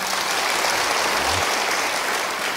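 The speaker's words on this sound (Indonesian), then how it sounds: "Kalau saya bilang menang Tuhan Yesus, langsung saudara tepuk tangan ya." A church congregation claps loudly and densely in an unbroken burst of applause, a bright sustained roar of many hands with a brief low murmur partway through.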